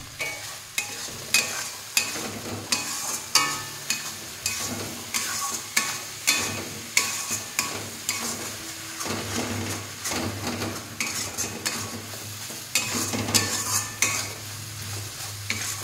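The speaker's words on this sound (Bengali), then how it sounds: "মশলাটা ভালো করে কষানো হচ্ছে, এই দেখো" Spice paste stirred and fried in a pan, with regular rhythmic scrapes and clinks of the spoon over a constant sizzle, close and steady throughout.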